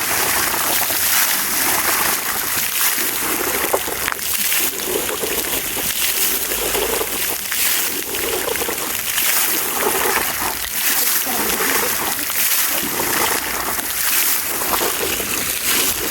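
Repaired outdoor water fountain spraying and splashing, a continuous loud rushing wash of water with faint voices talking underneath.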